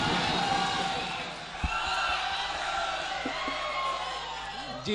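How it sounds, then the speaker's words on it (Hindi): A crowd at a poetry gathering (mushaira) cheers and applauds to welcome a local poet, a broad, sustained roar of voices and whoops with clapping mixed in, loud and continuous. "चाहता हूँ जोरदार तालियों से इस्तकबाल करें"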